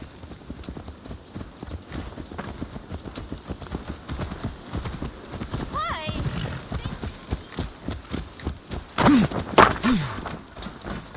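Hooves of a horse clip-clop in a rapid, even rhythm in the video game Assassin's Creed Valhalla, fairly close and prominent, with brief character voices and a short snort or whinny near the end.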